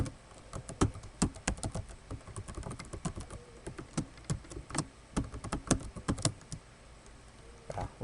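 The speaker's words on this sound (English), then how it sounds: "Looks like I was typing it wrong." Quick, irregular taps of keys on a computer keyboard, close and fairly quiet, with bursts and short pauses between.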